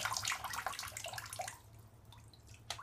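Splashing and trickling water as a Jurassic World Mosasaurus toy sits in a filled bathtub, busy and close for about a second and a half, then thinning to faint drips with one late splash.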